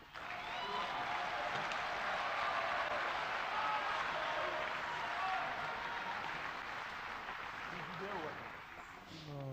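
Audience applause for the head of state, Félix Tshisekedi, at the inauguration of a financial centre in Kinshasa: a steady, dense wash of clapping from a large crowd that holds for several seconds before tapering off, with voices in the background.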